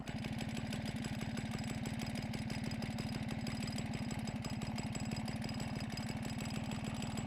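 An old Piaggio Ciao moped's small two-stroke engine idles, a steady fast putter close by, unbroken and a little rough throughout with no talking.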